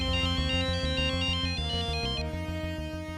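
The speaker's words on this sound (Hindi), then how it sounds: "मेरा फोन आ रहा है" A bright electronic ringtone melody loops continuously at close range, a repeating patterned tune with steady beats and no voices.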